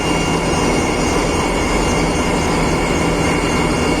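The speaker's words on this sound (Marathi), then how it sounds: "इंजिन वगैरे स्टार्ट केलाय" A merchant ship's engine runs before berthing at Bushehr Port, giving a loud, steady broadband roar with a constant low hum that stays unchanged for the whole stretch.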